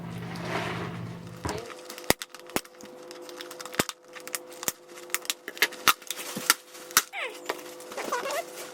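Sharp snapping and cracking of a plastic plant pot being cut open during semi-hydro repotting, a dense run of close, irregular clicks and crunches after a brief rustle.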